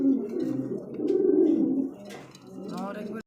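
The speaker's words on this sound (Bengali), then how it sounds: "দেখার মধ্যে একজোড়া কবুতর" A pair of pigeons offered for sale coo in low, throaty bursts, one long run early and another near the end, with someone talking over them.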